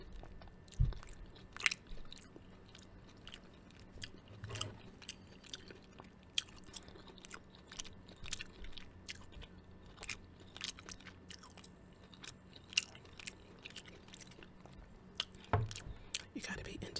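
Egg foo young patties with egg and onion eaten up close, soft repeated bites and moist chewing with occasional crunchy clicks and faint whispered voice in between.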